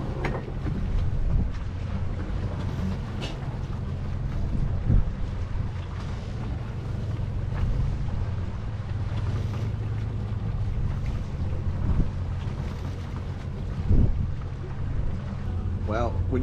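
Sailboat motoring under engine at sea, a steady low engine drone mixed with wind buffeting and water noise throughout, continuous and fairly loud.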